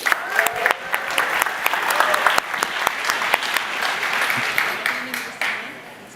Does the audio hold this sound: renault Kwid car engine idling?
no